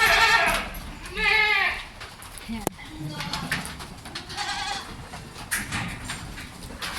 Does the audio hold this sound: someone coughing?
no